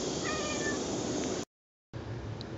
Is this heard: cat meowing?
yes